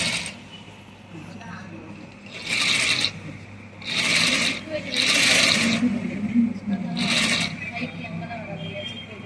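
A sewing machine stitches a chess-themed coin pouch in several short runs, its bright mechanical whirr starting and stopping in bursts over a low hum while a person speaks nearby.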